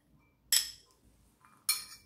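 Mung beans and black chickpeas being mixed in a bowl, with two sharp clinks of a utensil against the dish, well apart and close by in a quiet room.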